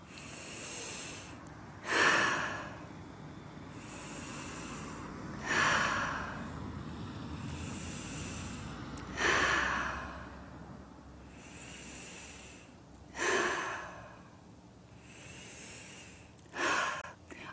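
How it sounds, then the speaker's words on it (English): A person breathes in through the nose and out through the mouth in slow, even cycles, with five distinct breathy exhales spaced a few seconds apart, close and alone. "do the same breathing in through your nose and out through your mouth"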